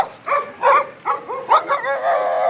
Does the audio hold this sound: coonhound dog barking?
yes